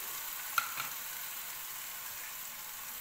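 Grated carrot halwa fries on a medium flame in a pan, a soft steady sizzle with a faint light stir or clink near the start.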